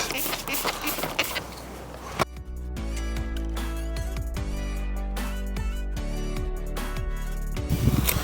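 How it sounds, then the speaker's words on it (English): A couple of seconds of hissing water spray onto natural stone before mortar is applied on a front porch, followed by steady background music. "Now we need to spray a little bit of water right onto our stone"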